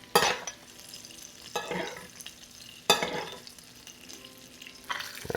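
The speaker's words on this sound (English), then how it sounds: "Add some crushed garlic and a little knob of butter. Gonna fry everything together" Steelhead trout fillets frying in a pan with crushed garlic and butter, a steady soft sizzle broken by several louder scraping stirs and basting clatters at irregular intervals, close by with no talk.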